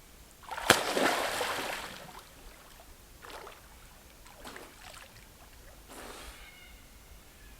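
Swimmers splash in the water of Katherine Gorge, with one loud nearby splash followed by fainter sloshing and smaller splashes.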